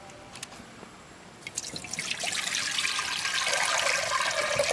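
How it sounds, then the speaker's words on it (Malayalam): Tamarind water poured into a cooking pot on the stove, a few faint drips at first, then a steady splashing pour that builds and continues to the end, close and clear. "പുളിവെള്ളം ഒഴിക്കുകയാണ് ചട്ടിയിലേക്ക്."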